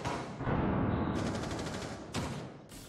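Gunfire in a first-person shooter video game, heard as rapid automatic bursts with sharp onsets, loud and close, sounding in a few separate volleys with brief gaps.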